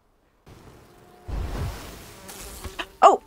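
Bees buzzing in the video game Enshrouded: a faint drone that swells into a louder, closer hum for about two seconds, ending in a brief sharp burst.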